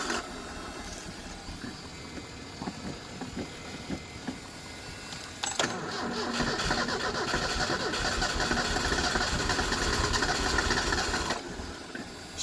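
1986 Ford Mustang SVO engine cold starting, cranking and catching around the midpoint, then settling into a loud, rough, steady idle close by with no talking.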